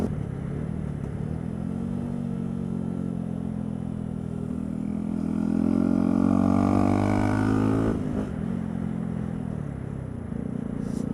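A motorcycle with a Leo Vince GP Style Evo 2 full exhaust system rumbles at idle, then its engine note rises into a brief rev and settles back down, heard up close and alone.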